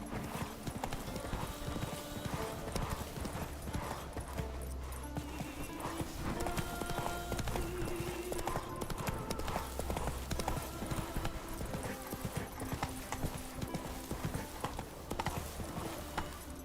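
Roach, a horse in The Witcher 3, trots with steady, rhythmic hoof clip-clops over a continuous game music and ambience bed, with an occasional whinny.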